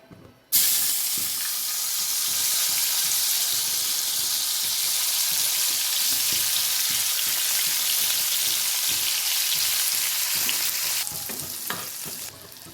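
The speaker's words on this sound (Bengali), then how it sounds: "কেটে রাখা টমেটো আর ক্যাপসিকামটা দিয়ে একটু ভাজা ভাজা করে নেব" Tomato and capsicum hit a hot pan and fry with a sudden loud burst of sizzling, then a steady close hiss with stirring clatter that eases near the end, no talk.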